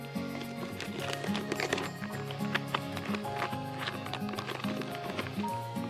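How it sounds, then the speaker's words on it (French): A horse recovering from surgery stamps its hoof, producing a series of dull knocking thuds heard from a distance among other steady background sounds. "on entend de loin là, hein, taper du sabot"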